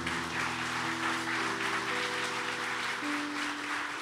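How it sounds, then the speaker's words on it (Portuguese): Steady, dense applause from a church congregation fills the whole stretch, with sustained musical tones underneath. "Você pode dar um aplauso a Jesus?"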